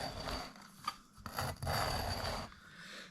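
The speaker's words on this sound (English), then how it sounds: "So we use whetstone, we'll hold it about a 30-degree angle, pushing it along." A hand tool from a forest school kit, such as a billhook or bowsaw blade, is pushed along a whetstone at an angle, giving several rasping, rubbing strokes at close range with short pauses between them.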